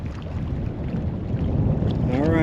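Strong wind blows outdoors on the Oregon coast as a loud rumbling roar buffeting the microphone, steady throughout with no speech.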